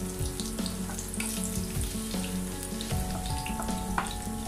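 Mustard seeds and chopped shallots fry in oil for a kusa thoran, a steady close sizzle and crackle running throughout beneath a melodic tonal background.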